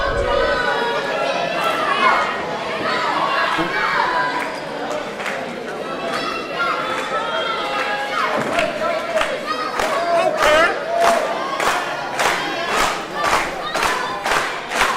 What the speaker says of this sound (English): The crowd trying to will Jon Davis back to his feet.